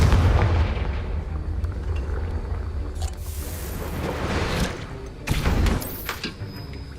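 A Confringo blasting spell explodes in the game Hogwarts Legacy: a loud, heavy rumbling blast with sustained low roar, followed by further bursts and crackling debris, no talking.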